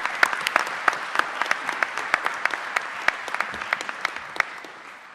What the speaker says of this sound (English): just join me in applauding everyone in our efforts across the state